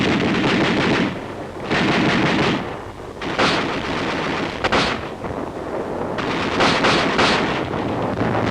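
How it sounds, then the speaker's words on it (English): Automatic rifle fire in 1951 Korean War combat, loud sustained bursts of rapid shots in four or five separate volleys with brief gaps, harsh and close over rough wind-buffeted noise. "The auto rifle."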